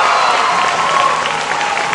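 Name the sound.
sellout crowd applauding Michael Phelps at swim meet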